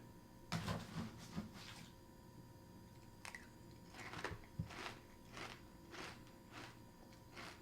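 Crunchy Honey Bunches of Oats Vanilla cereal being chewed close up, with a series of soft, crisp crunching bursts at an uneven pace against a quiet background.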